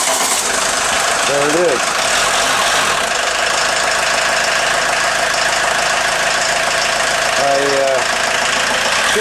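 VW Golf diesel engine running just after a timing belt change, a loud, steady clattering idle with knocking throughout, close up, with brief talk over it.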